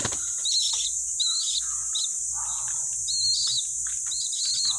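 Small bird chirping in short, high, bright bursts spaced through a few seconds, heard alone over a steady hiss with faint insect-like buzz in the background.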